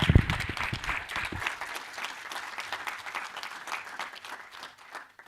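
An audience at a university professorial inauguration gives a round of applause: sustained, fairly soft clapping from a large hall crowd, preceded by a few brief thumps, tapering gradually toward the end.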